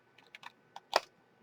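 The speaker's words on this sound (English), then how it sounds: "we're going to take a pair of scissors, and on the folded side, we're just going to take a very small" Scissors make a few short, sharp snips into the folded edge of a laminated notebook page, with a handful of light clicks building to one louder, crisp cut, close and alone with no talk.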